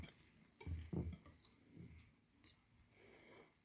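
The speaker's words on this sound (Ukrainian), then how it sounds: "Взяла віночок і віночком легенько ще добре перемішаю" Whisk gently stirring cheesecake batter in a bowl, soft thumps and swishes in slow strokes, quiet and close with no voices.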